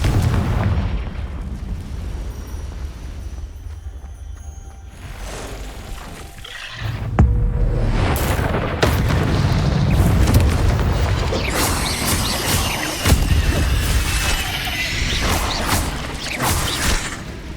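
Confringo blasting-curse explosions in the Hogwarts Legacy video game: loud booming blasts with crashing debris. After a quieter stretch, a big hit lands and dense, rumbling bursts continue to the end.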